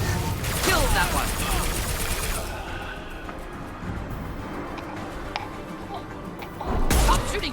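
Gunfire in the Mass Effect video game, a dense burst of rapid shots in the opening seconds, then a quieter stretch with scattered impacts and another loud blast near the end, with game dialogue around it.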